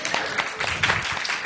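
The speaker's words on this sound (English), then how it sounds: "if we can give them a round of applause" Audience applause for a church band and technical helpers at a sermon event, a steady wash of clapping across the whole moment at moderate loudness with no talk.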